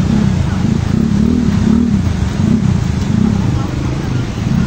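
Motorcycles idling and revving while waiting at a flooded road in Marilao, Bulacan, a continuous low engine rumble with wavering throttle swells and traffic noise, with someone talking over it.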